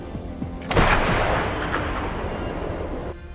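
A single sniper rifle shot in a war film about snipers on the Ukrainian border: one sharp report followed by a long rolling echo and decay that fades over a few seconds, with no talking.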